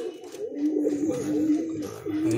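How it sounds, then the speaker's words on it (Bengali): Pigeons from Chennai, a Pulser and Dasu breed line, coo steadily and close by in a soft, continuous throaty murmur with repeated rolling notes and no speech. "পুরো ডাইরেক্ট চেন্নাই থেকে নিয়ে আসা পায়রা"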